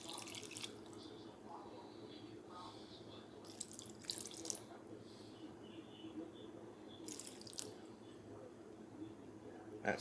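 Water is poured into a pot for freeze-dried Japanese golden curry, a quiet continuous trickling and splashing with a few louder gushes, faint and close, with no one talking.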